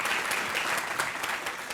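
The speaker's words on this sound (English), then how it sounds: "Well, you're welcome to applaud. Applauding is fine." A steady round of audience applause at a live conversation event with a historian on the Civil Rights movement, many hands clapping at once in a dense, even patter with sharper individual claps standing out.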